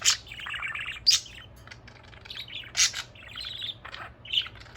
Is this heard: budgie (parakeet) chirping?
yes